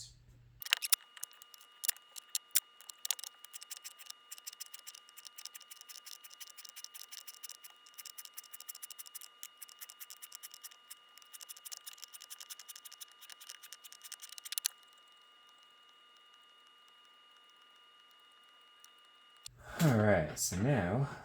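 Small quarter-inch strips of duct tape being cut with scissors, giving a dense run of quick snips and crisp tape noises close up for about fourteen seconds, a quieter stretch after, then a voice at the end.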